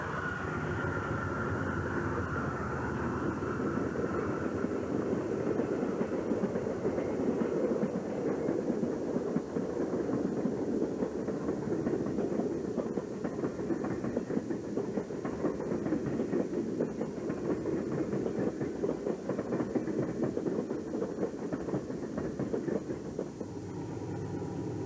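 A Santa Fe passenger train crosses a truss bridge at the east end of Apache Canyon, heard from a distance as a steady, continuous rumble with faint clickety-clack of wheels that keeps going without break.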